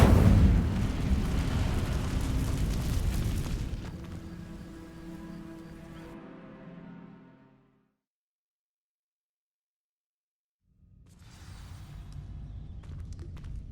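A fire spell ignites dry vines in a Harry Potter video game, giving a loud roaring burst that crackles and fades over several seconds before silence, then low ambient rumble returns.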